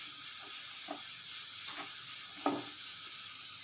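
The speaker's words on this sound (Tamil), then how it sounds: "இந்த எண்ணெயை சூடாகிட்டு இதில் வெண்டைக்காய் வந்து ஃப்ரை பண்ணிக்கலாம்" Okra frying in hot oil makes a steady, close hiss of sizzling, broken by a few faint soft pops and light stirring taps.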